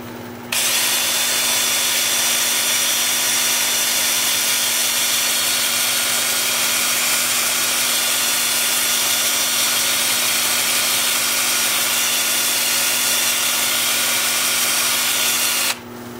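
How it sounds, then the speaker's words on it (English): A red cedar vase spinning on a wood lathe at about 350 rpm is sanded through grits up to 400, a loud, continuous whirring and abrasive hiss that starts and stops abruptly, with no talking. "I'm going to have the lathe spinning forward at about 350."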